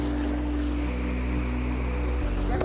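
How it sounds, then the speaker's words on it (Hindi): A small waterfall at Harangajao in Assam gives off a continuous close rush of falling water, a steady broadband roar without pause. "हाँ बहुत सुंदर वाटरफॉल है यह, मतलब छोटा सा है लेकिन सुंदर है"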